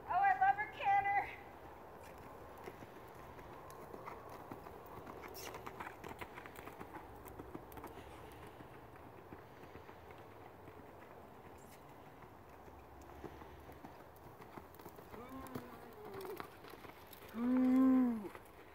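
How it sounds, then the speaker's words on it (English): A green horse cantering in a riding arena, its hoofbeats coming as soft, muffled rhythmic thuds beneath steady background noise, with a rider's brief voice sounds at the start and end. "That was a really nice canter."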